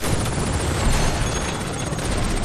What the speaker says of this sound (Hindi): इसी चक्कर में घर को तबाह करके हेलीकॉप्टर भी गिर पड़ा